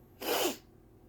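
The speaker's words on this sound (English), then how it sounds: "let's sneeze." A single sneeze from an adult indoors, a short burst of breathy noise lasting about half a second, close and moderately loud, with quiet room tone before and after.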